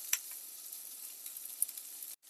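Thinly sliced ingredient sautéing in a hot pan for egg kuzhambu, a steady bright sizzle with a couple of sharp crackles, dropping out abruptly at the end.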